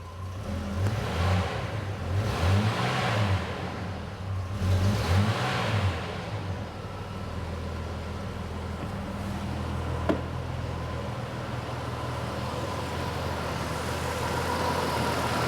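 A repaired Jeep XJ engine runs close by, rising and falling through a few revs in the first seconds before settling into a steady idle, with one sharp click midway.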